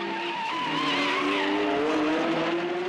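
Race car tyres skidding under braking into a turn at an Adelaide motorsport event, a loud sustained squeal with wavering pitch lasting the whole moment, close and alone.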